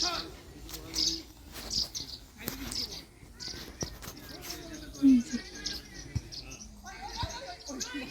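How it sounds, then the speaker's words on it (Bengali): Small birds chirp and tweet outdoors at a winter picnic spot on a farm resort, with scattered short calls near and far, faint insect-like chirring, and a person talking over them intermittently. "কুচকুচ কুচকুচ করে পাখিগুলো ডাকছে"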